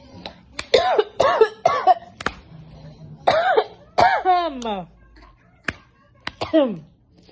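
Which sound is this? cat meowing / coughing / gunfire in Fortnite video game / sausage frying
coughing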